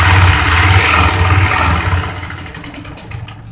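Motorized sewing machine stitching fabric for a baby girl's designer kurti, a loud steady mechanical whirr for about two seconds that then eases off into lighter, uneven ticking and clatter.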